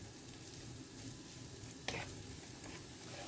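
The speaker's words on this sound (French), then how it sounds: "Je vais mélanger parce que là j'ai tous les oignons d'un côté et les échalotes de l'autre." Onions and shallots fry in a pan while being stirred, giving a steady close sizzle with a single sharper scrape partway through.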